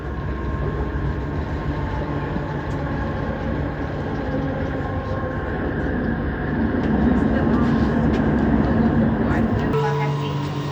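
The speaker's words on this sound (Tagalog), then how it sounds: "Automatic, itong LRT na to ay kusang humihinto every station" An automated LRT light rail train in Kuala Lumpur rolls along steadily with a continuous rumble and hum, growing slightly louder toward the end, with a brief change in tone near the finish.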